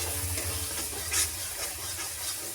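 Spiced chicken curry marinade being stirred in a pan for a home-style desi chicken curry, a steady close scraping and mixing with a soft sizzle throughout and one brief louder hiss midway.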